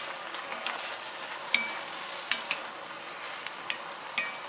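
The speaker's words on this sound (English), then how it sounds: "Mix a little bit." A spoon stirs luffa and vermicelli soup in a pot over a soft steady hiss, with a handful of light clinks and taps against the pot, fairly quiet and without speech.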